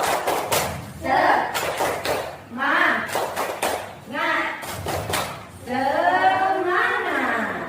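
Classroom students perform the tepuk semangat spirit clap, rhythmic group clapping in short patterned bursts, interleaved with children's chanting voices and pauses between rounds, loud and close.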